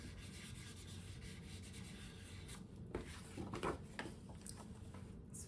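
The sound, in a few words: burnishing a paper band onto a card panel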